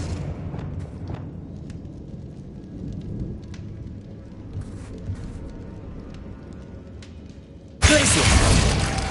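Expelliarmus spell effect in a video game: a sudden loud, crackling burst near the end cuts in abruptly over a rain-like, rumbling background ambience.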